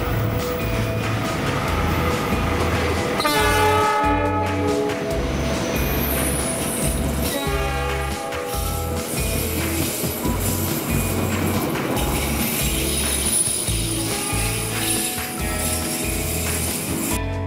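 Argo Wilis passenger train in Indonesia passing close by, a loud continuous rumble with rhythmic wheel clatter and a metallic squeal.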